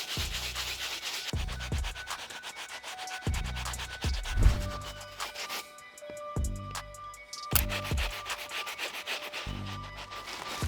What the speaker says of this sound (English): we're still gonna give them a good scrub down using the medium bristle brush